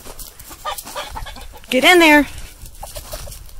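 A rooster gives a short, loud squawking cluck while being herded into a coop on a snowy winter day, close by, with a person talking and urging the birds around it.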